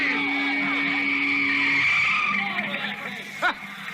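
A car skids with a long, loud tire squeal as a sound effect in an old radio drama, set on a football field, fading into rougher rumbling and a short sharp squeak near the end.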